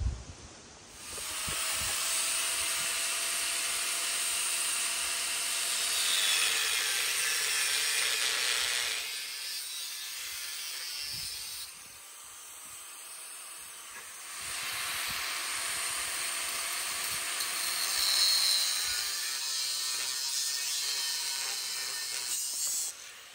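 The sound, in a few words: cutting out metal pieces for Sequoia tire swingout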